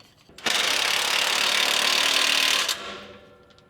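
A ratchet wrench tightens a clamp on a dump truck's straight exhaust pipe in one loud, continuous burst of rapid clicking of about two seconds, followed by a fading tail.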